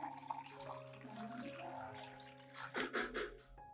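Clean water is poured into an orchid solution to dilute it, a splashing, gurgling rush that swells near the end over a steady background hum.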